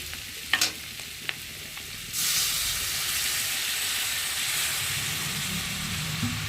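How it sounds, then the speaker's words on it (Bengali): Water poured into a hot pan of sautéed potato and snake gourd sets off a sudden loud, sustained sizzle and hiss after a few faint clinks, continuing steadily to the end. "আমি এখন অল্প করে একটু জল দেবো"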